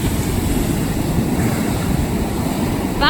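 Ocean surf rolling onto a South Florida beach in the wake of Hurricane Dorian, a steady roar of breaking waves with wind noise buffeting the microphone, continuous and fairly loud throughout.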